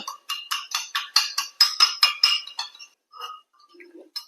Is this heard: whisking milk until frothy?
yes